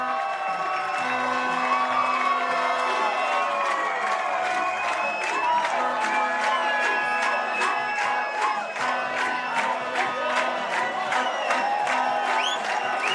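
A stadium crowd cheers and whoops after a men's para football final at the IFCPF Asia-Oceania Championships, settling into loud, steady rhythmic clapping under sustained shouting.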